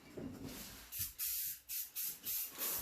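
Aerosol mold release hisses onto stone in a series of short bursts, about six quick sprays with brief pauses between, close and fairly loud.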